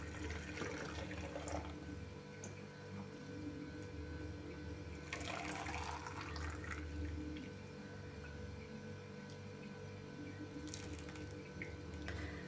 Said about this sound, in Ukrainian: Киплячим маринадом заливаємо помідори.